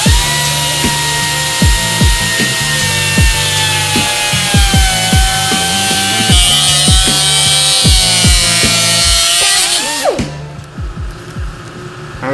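A power saw cuts through a painted bike handlebar wrapped with tape, a loud close whining buzz with steady tone and rhythmic chatter that stops abruptly near the end, leaving quieter handling noise.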